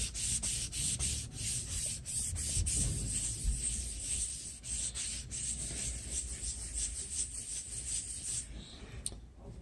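Steady back-and-forth rubbing strokes across a ThinkPad X230 laptop casing during restoration, a close, rhythmic scratchy friction sound that continues without pause.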